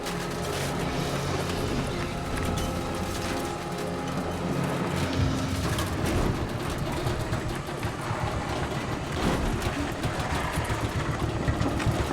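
Deep, steady rumble of a heavy truck tractor engine idling during a highway recovery on a steep incline, loud and continuous throughout with no speech.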